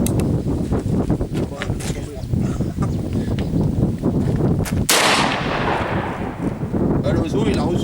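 Gunfire at an adjustment shooting range: a dense run of rapid shots, followed by one loud, sharp blast that rings away. Voices murmur underneath.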